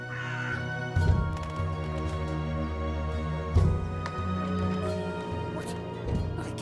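A talking bird in Dreamfall Chapters gives a few harsh, nasal caws over a steady droning game background, two louder squawks standing out near the start and middle.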